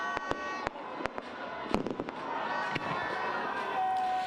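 Community fireworks bursting on New Year's Eve at Burnham Park in Baguio, a run of sharp, distant bangs and crackles spaced irregularly over a low crowd murmur.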